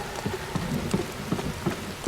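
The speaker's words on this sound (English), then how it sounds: "It's raining now." Rain falling in the Little Orpheus video game: steady pattering rain with a faint low rumble beneath and repeated soft tonal drip accents, fairly quiet and without speech.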